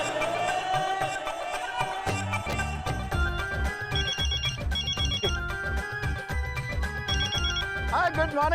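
A telephone in a Hindi sitcom household plays a loud, melodic ringtone that repeats steadily for about eight seconds, with faint voices underneath.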